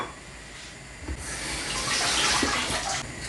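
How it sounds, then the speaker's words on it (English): Scotch bonnet peppers are rinsed under a running kitchen tap, a steady close splash of water that grows fuller and louder as the hands work under the stream. "To wash the Scotch bonnet."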